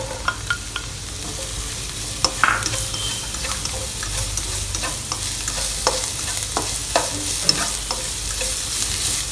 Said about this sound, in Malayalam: സ്പ്രിംഗ് ഓണിയൻ ചേർത്ത് മഷ്റൂമും മിക്സ് ചെയ്യാം.